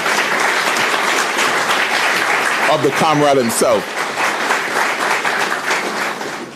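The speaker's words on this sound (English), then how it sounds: "Please give him a round of applause." Audience applause at a State of the Territory Address, loud sustained clapping from a large crowd in a hall, continuing throughout while a speaker's amplified voice briefly cuts through in the middle.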